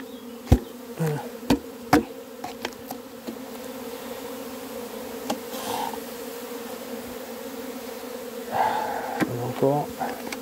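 Honey bees buzz around an opened hive in a continuous steady hum, with sharp knocks of hive frames being handled and a brief voice partway through.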